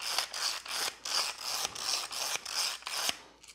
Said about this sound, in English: give it a couple cranks of pepper